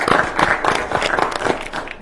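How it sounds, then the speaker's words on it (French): Applause at a municipal council meeting, a short, close burst of hand clapping with uneven rhythm from a small group in the room. "Je pense que ça vaut une main d'applaudissement pour nos équipes."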